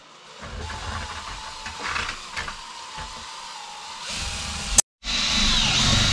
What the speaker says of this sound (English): we got our paddle mixer on our drill, and we're gonna mix it